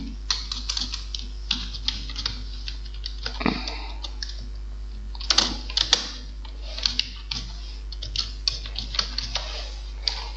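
Steady typing of a slide title on a computer keyboard in a PowerPoint class, a continuous run of close, crisp key clicks with an occasional louder tap over a low hum.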